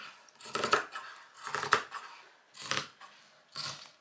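Scissors snip through the fabric of a hoodie in four distinct, close cuts spaced about a second apart, each a crisp crunching slice with quiet between.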